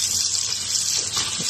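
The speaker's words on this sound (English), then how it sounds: "My macaroni's done, and I'm rinsing it in cold water to cool it off good." Cold tap water runs into a sink while cooked macaroni is rinsed, a steady close hiss of flowing water with slight splashing changes and no talking.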